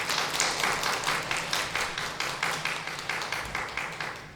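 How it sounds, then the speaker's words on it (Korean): Church congregation applauding together during a Sunday service, with an even, rhythmic clapping that pulses steadily and fairly loud through the hall, and no voices over it. "감사의 박수 드리겠습니다."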